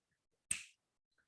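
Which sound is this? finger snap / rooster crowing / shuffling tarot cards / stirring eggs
finger snap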